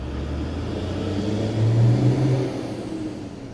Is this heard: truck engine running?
yes